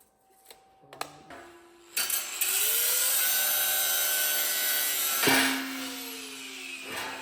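A power cutting tool bites into welded metal bits, with a few short taps and starts before a sustained high-pitched grinding whine, a brief surge midway, then it winds down.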